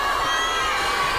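A live show audience in Guadalajara cheers and shouts in a dense, continuous roar, loud and close, with no single voice standing out.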